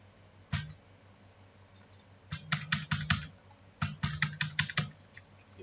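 Typing on a computer keyboard during command-line work: a single click, a pause, then two quick bursts of rapid, close keystrokes with sharp clattering taps and no talk.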